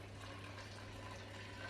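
Hot water pours into a pan over soaked, rinsed chickpeas for Trini doubles, giving a faint, steady gushing wash throughout the short moment.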